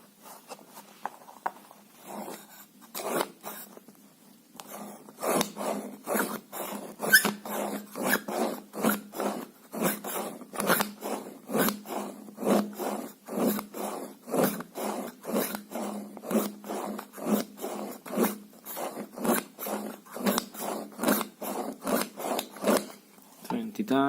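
Hultafors knife blade rasped against a sharpening surface in steady back-and-forth strokes, close and fairly loud, repeating in a regular scraping rhythm for the whole stretch with no talk over it.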